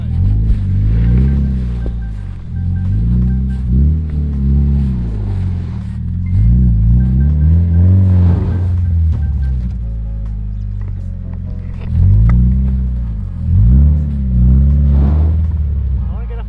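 A car engine rumbles and revs while driving off-road over large tree stumps, with people talking over it throughout.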